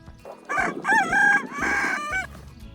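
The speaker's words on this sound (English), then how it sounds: "So the rooster is Luke." A rooster crows loudly and close by, one full cock-a-doodle-doo call with a rising, warbling pattern.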